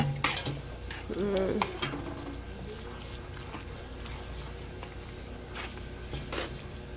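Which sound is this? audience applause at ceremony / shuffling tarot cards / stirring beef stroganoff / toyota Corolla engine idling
stirring beef stroganoff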